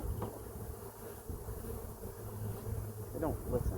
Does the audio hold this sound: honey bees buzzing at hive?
yes